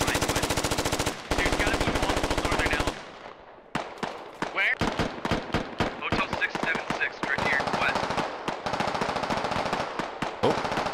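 Dense, rapid automatic gunfire from the military video game Squad, with long machine-gun bursts and scattered rifle shots crackling close and loud through the whole stretch, briefly thinning out near the start.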